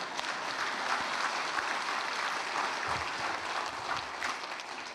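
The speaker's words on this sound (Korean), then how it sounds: "박수 치려면 좀 잘 치" A church congregation applauds during a sermon, a dense, steady wash of many hands clapping at once that fills the whole span at even strength.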